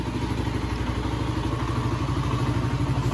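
A Kawasaki KLR 250 single-cylinder motorcycle idling after warming up, a close, steady, rapid thumping beat with a light mechanical clatter, running evenly throughout with no talk.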